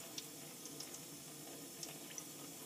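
Water runs from a shower during work on the escutcheon seal, a faint, steady hiss with a few small drips and splashes scattered through it.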